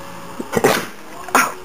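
A dog gives a couple of quick, sharp sneezes close by, separated by a short pause.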